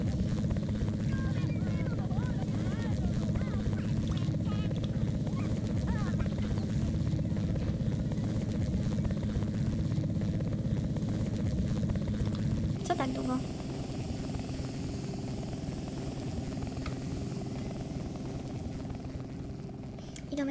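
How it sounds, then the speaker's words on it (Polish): Helicopter in The Sims 2, a steady rotor and engine drone heard throughout under game music and ambience, shifting in tone partway through as the scene changes. "Helikopter."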